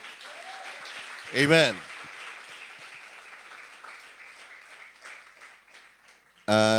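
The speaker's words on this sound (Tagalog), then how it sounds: "Malakas na palakpak, mga kapatid." A church congregation applauds at a worship service, the clapping fairly faint and steady behind a loud voice that calls out briefly at the start and again at the end.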